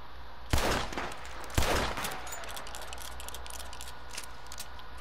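Two loud, sharp revolver shots ring out about a second apart in Red Dead Redemption 2, each trailing off into a lingering echo over a quiet outdoor background with faint ticking.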